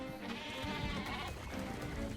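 Sheep bleat repeatedly in the survival video game ARK, loud and close, with several overlapping wavering cries over steady game background noise.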